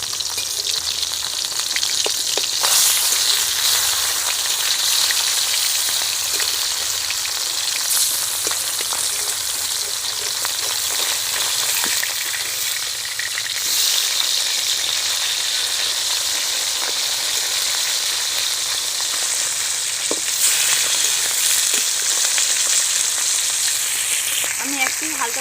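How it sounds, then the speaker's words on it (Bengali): Pieces of katla fish fry lightly in hot oil in a pan for doi katla, a loud continuous sizzle and spitting crackle heard up close with no talking, swelling slightly at moments. "দই কাতলা করার জন্য এখানে কিন্তু মাছটা হালকা করেই ভাজবো।"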